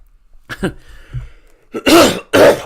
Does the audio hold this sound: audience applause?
no